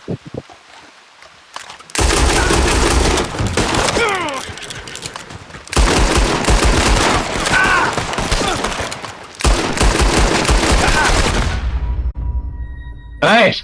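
Heavy gunfire erupts in a video game gang clash between the Red Skull and Golden Company gangs: dense, loud volleys in long sustained bursts separated by short lulls, with voices faintly mixed in.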